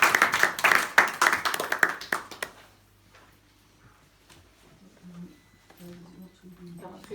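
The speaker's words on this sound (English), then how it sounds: "Please give them your applause." Audience at a poetry festival giving brief applause, a loud burst of close clapping for about two seconds that quickly fades into quiet, followed by soft speech.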